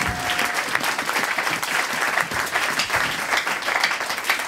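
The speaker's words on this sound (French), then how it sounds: "Est-ce que tu peux acclamer tes frères et sœurs?" A church congregation applauds, with dense, steady clapping from many hands filling the room and some voices mixed in.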